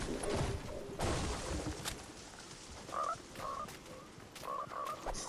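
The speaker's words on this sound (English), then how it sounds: "Frog." Frog croaking in Fortnite, short throaty croaks repeating in small clusters over faint game ambience and occasional clatter, moderately quiet and a little distant.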